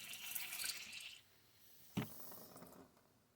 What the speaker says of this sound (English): now the water is seeping through the filter